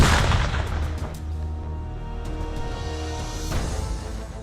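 A loud blast during Kopaska naval commando training, a broad heavy boom that fills the whole clip with a sustained rumbling roar, with a second burst near the end and no talk.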